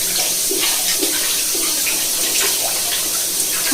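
Tap water running loudly and steadily into a kitchen sink while dishes are washed at home, a close, dense rushing stream with faint clinks of utensils under it.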